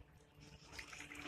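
Water is pumped upward through a homemade poultry cooling system and splashes steadily close by while a fan runs, a continuous wet trickle that grows slightly louder toward the end.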